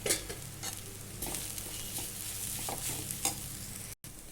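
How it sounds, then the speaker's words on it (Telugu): Chili powder and ground peanut powder fry with drumstick leaves in a pan, a steady close sizzle with light stirring scrapes throughout and a brief cut near the end. "ఇప్పుడు మిరప్పొడి పచ్చివాసన పోయేదాకా బాగా వేయించుకొని ఇందులో శనగగింజల పొడి వేసుకున్నాం"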